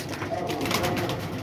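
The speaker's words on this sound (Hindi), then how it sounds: "4 कबूतर हैं ये चिट्टों वाले।" Several white pigeons coo close by in soft, rolling murmurs, layered over a busy outdoor background.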